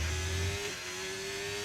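Formula 1 car engine in a racing video game at the Brazil circuit, held at a steady high-pitched drone at full throttle with a brief low thump early on, continuous and fairly loud.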